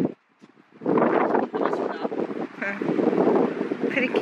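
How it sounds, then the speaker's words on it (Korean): Strong wind buffets the microphone in cold weather on Jeju, a rumbling, gusty roar that swells and fades, heard under a voice talking throughout. "여기 너무 춥고 바람소리 잘 들어가지 바람소리 들어가?"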